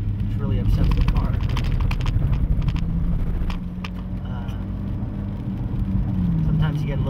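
A car on the Road America race track drops down through the gears from fifth to first, its loud engine roaring close and steady with rises and dips as each gear engages.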